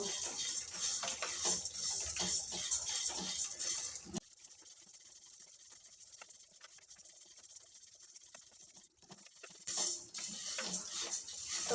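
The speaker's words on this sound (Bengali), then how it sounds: "চালটা দিয়ে আর কিছুক্ষণ নাড়াচাড়া করে ভেজে নেব" Parboiled rice is stirred and dry-roasted in a pan, with gritty scraping and clinking of a spoon at the start and end and a quieter stretch between, no talking.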